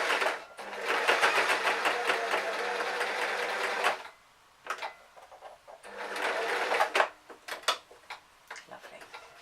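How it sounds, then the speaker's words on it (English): A sewing machine stitches a seam on a beginner's bag hat in two bursts of rapid, steady mechanical whirring, each about four seconds long, separated by quiet handling clicks and rustles close by. "I'm going to turn it round, put the foot down, and that's the foot of the sewing machine"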